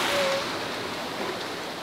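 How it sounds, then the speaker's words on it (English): Famous waterfall in Japan, a steady broadband rush of falling water heard close and constant throughout. "this is the famous waterfall in Japan"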